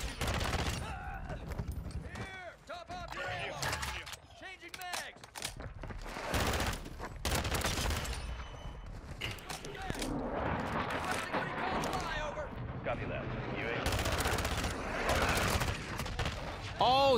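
Rapid bursts of FR Avancer assault rifle fire in a Modern Warfare 2 match, loud and near, with repeated volleys and a few short pauses, alongside other battlefield gunfire and a voice talking over the action.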